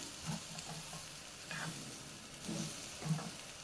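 Chicken sausage with coarsely crushed pepper stirred in a frying pan, a soft steady sizzle with a few scraping stirs of the spoon, quiet and close.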